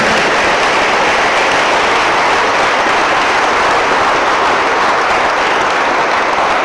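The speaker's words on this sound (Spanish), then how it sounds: "Aplausos para esta niña." A Christian church congregation applauds a young girl, giving dense, steady clapping that stays loud and unbroken throughout with no voices over it.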